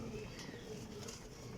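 Young pigeons able to fly, kept in a loft of paired birds, coo softly and steadily close by, the low murmuring cooing continuing without pause over a faint background of other birds.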